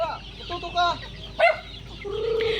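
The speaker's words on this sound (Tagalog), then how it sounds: "grabe ang manok ko" Native and Rhode Island Red chickens on a rural farm cluck and squawk in short, close calls, with a longer squawk near the end.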